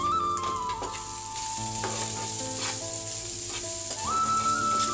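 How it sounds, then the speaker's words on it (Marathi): Cooked rice seasoned with salt, garam masala and turmeric is stirred and tossed in a hot pan, producing a loud continuous sizzle with scraping turns, set against a sustained musical backing. "भाताला थोडंसं अलटून पलटून घेतलं आहे"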